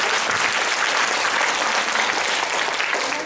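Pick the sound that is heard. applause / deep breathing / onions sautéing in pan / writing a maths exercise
applause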